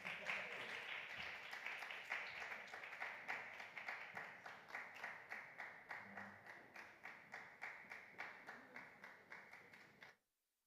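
A conference audience applauding, with many hands clapping in a steady, even rhythm for around ten seconds before stopping abruptly.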